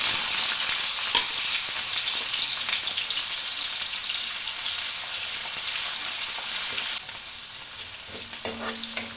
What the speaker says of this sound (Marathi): जिरे चांगले फुलले. आता कांदा टाकून घेते.